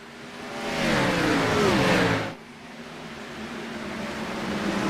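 Race cars in a NASCAR video game accelerate at the start, a loud, rising engine roar that swells for about two seconds, cuts off abruptly, then continues as a quieter, steady engine drone.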